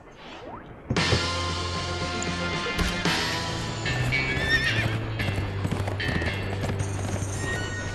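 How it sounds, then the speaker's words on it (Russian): Hooves clip-clop steadily and a horse neighs loudly in The Escapists 2 prison game, with layered game sounds and rattling mechanisms over a continuous music bed. "Но я увидел какую-то лошадь."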